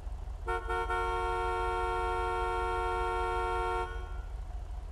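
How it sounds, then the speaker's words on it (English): A car horn in a racing game blares in one long steady honk of about three seconds, loud and close, set against a low rumbling engine bed. "You gonna realize that I'm honking at you, bro?"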